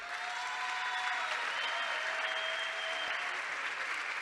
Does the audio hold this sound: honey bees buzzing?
no